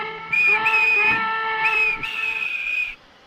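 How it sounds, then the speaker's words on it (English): A steam whistle sounds in one sustained, chord-like blast with slight pitch wavering, then cuts off abruptly. "And he blew his whistle."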